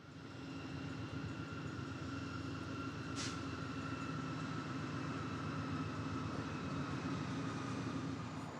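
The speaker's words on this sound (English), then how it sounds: "eastbounds such as this grain train leave the Yale sub for the Ashcroft sub" A CN eastbound grain train rolls steadily past on the canyon line at Boston Bar, British Columbia, a continuous loud rumble of wheels and railcars with a brief high squeal partway through, no voices.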